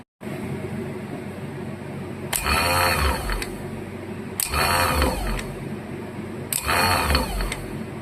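Starter cranking the engine of a 1977 Bolens G10 garden tractor in three short, loud bursts about two seconds apart, each a harsh whirring grind rising over a steady background hum.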